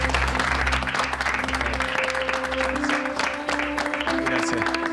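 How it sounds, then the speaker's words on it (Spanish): An audience applauds in a sustained wash of clapping, with background music and pulsing low tones running under it throughout. "por favor, un aplauso a Martín Rivas"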